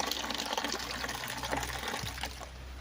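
Water gushes steadily from a faucet at a roadside farmhouse in Cavinti, Laguna, a continuous close splashing flow filling the whole stretch with no talking.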